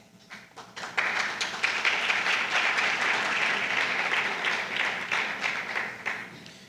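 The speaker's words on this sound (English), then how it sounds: "I think that all of you here really deserve a big round of applause." Audience at a parents' event breaking into applause, many hands clapping in a dense, steady wash that swells after a brief start and holds for several seconds before tapering slightly.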